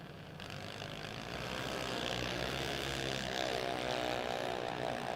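A junior dragster races down a drag strip during a round of eliminations, giving off a steady broadband engine roar that swells in loudness and holds strong to the end.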